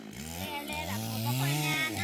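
A chainsaw cuts a felled tree into planks outdoors under hot sun, its engine droning steadily up close with the pitch rising and dipping as it bites into the wood.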